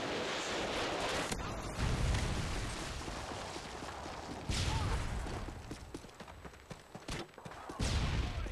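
Predator missile strike explosions in the Modern Warfare 2 video game, with several heavy booming blasts separated by rumbling, crackling battle noise, fairly loud throughout.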